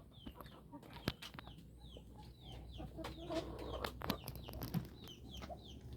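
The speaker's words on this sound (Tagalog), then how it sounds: "ang ating Rhode Island mahogany. Ayan, ang ating mga manok." Rhode Island Mahogany chickens, five-month-old hens and young roosters, clucking and chirping repeatedly around a farmyard, with steady overlapping calls at moderate distance and an occasional sharper squawk.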